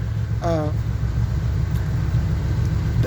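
A 1978 GMC truck engine running after a cold start, a loud steady low rumble throughout with a short voice-like tone cutting in early.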